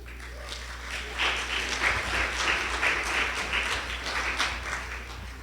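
Audience applauding after a live competition performance, steady crowded clapping that rises after a second and holds, moderately loud over a low hum.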